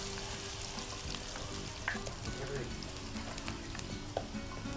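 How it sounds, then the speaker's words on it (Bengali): Onions fry in a pan for a spicy beef keema, a steady, even sizzle with a few soft clicks from stirring. "পেঁয়াজ ভাজা হয়ে গেছে"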